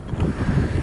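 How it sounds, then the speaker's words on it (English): Outdoor wind buffeting a microphone, a short low rumbling roar with uneven gusty pulses, close and fairly loud, with no voices. "This is windy."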